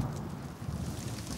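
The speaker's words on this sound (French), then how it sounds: "On peut toujours essayer de l'ignorer, cette pluie." A steady hiss of rain with a low rumble beneath, continuous and fairly faint, with no voices, from a children's cartoon.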